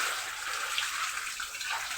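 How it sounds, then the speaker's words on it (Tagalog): Floodwater overflowing a creek near houses after heavy rain, a steady broad rushing and gushing wash that stays loud and continuous throughout with no talk. "maapaw na yung tubig doon sa may bahay"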